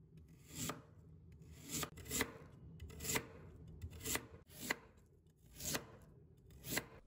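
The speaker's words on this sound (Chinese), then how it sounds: "这里我们要把白萝卜的片切均匀一些，千万不要切得太厚了" Knife chopping through white radish on a board in even slices, a steady run of about ten sharp crisp cuts spaced roughly evenly, close and clear with no talking.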